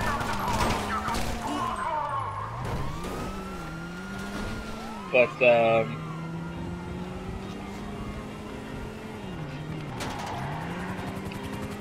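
A car driving in a video game, its engine tone rising and falling through gear changes under steady game audio, with a brief burst of clatter midway and a person talking over it.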